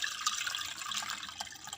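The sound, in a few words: water being strained from cut banana flowers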